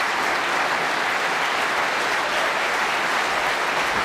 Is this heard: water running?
no